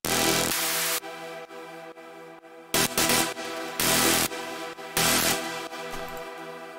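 Layered synth sounds from a KU pack, processed with EQ, OTT, delay and reverb, play loud and alone in sustained bright chords that cut off and restart in several rhythmic blocks.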